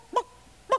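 Two separate honking duck quacks in a children's song, spaced about half a second apart, each loud, nasal and short, with quiet in between.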